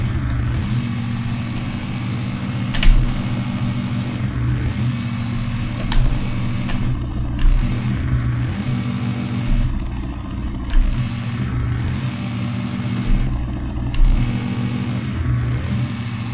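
Sports car engine in an Unreal Engine 5 Chaos Vehicle demo, a steady synthesized drone with repeated rising rev swells every few seconds, close and continuous with no voices.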